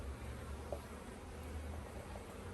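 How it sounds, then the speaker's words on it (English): Honeybees hum inside a newly made hive as a steady, faint, even drone with no talk. "So that's why the bees make all these queen cells."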